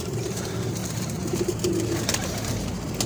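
A crossbred pigeon with mixed-breed feathers coos close by in a pigeon-keeping setting, a few soft rolling coos rising over a steady low background hum.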